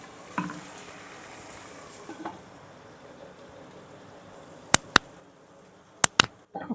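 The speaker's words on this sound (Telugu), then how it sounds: "ఇప్పుడు మనం వంకాయలు రెండు కట్ చేసి పెట్టుకున్న వంకాయలు వేసుకొని ఇవి కూడా మనం బాగా మగ్గనిద్దాం" Cut eggplant pieces sizzle softly in a pan for a simple eggplant stew, with a low, steady hiss and a few sharp clicks of utensils against the pan near the end.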